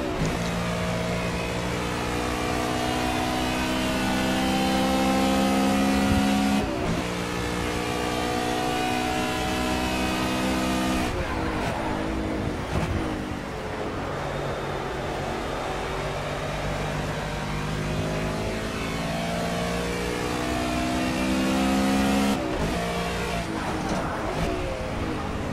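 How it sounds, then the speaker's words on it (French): Race car engines in the Project CARS game at Road America, a GT Touring car droning loud and steady, its pitch climbing and dropping through gear changes and following close behind an Aston Martin, with no speech. "Et là ici on est dans les échappements du pilote de l'Aston Martin."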